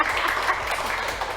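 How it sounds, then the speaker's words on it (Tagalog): A studio audience applauds a former ambassador arriving as a guest, a dense, steady patter of many hands clapping close by, fairly loud and tapering slightly at the end. "Palakpak naman dyan."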